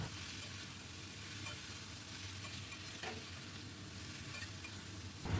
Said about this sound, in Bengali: এবার দিলাম নুন মাখানো চিকেন। খুব ভালো করে আমি এবার কষাতে থাকবো।